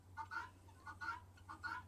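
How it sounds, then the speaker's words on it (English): A guinea fowl inside a chicken coop calls repeatedly, three faint, evenly spaced two-part cries over a low steady hum. "I got a guinea that doesn't want to stop talking."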